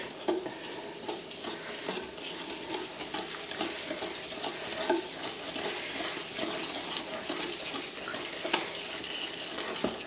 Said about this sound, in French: On va remuer délicatement.